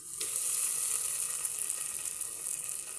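Tomatoes drop into hot masala of ginger-garlic paste in a pan, a bright hissing sizzle that flares at once and holds steady, close and alone.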